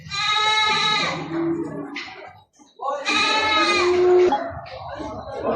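Gala sheep at a livestock market in Maştağa, with two long, loud, wavering bleats close by, separated by a short pause.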